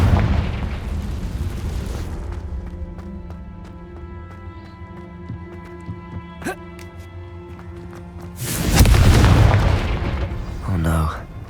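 Confringo blasting spell from Hogwarts Legacy going off, a loud roaring burst opening the stretch and another big explosive blast near the end, with game music and small effects between.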